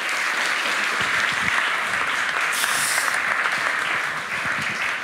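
An audience gives hearty applause for a speaker at a commemorative literary event, a continuous, even wash of many hands clapping that stays steady throughout.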